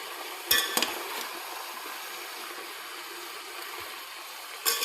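Vegetables for a veg dum biryani stirred in a pan, with a soft steady sizzle and a few louder scraping clatters of the spoon near the start and end, no talking.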